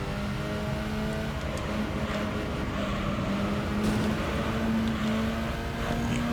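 Racing engines in Gran Turismo 3, a Toyota AE86 Trueno among the cars, a steady droning whine that climbs slowly in pitch as the car accelerates, continuous and fairly close, with no talk.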